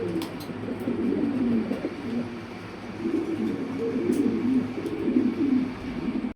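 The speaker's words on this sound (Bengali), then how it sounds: "তো দেখেন একটা নর কবুতর" Male Lahori pigeons coo on a farm, low rolling burbling calls overlapping almost continuously, fairly close, with a few faint chirps and clicks above.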